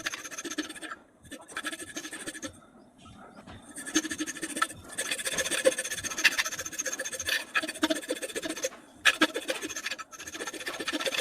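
A hand file (rasp) rounding a workpiece, giving steady scratchy strokes close up that continue with brief pauses between passes.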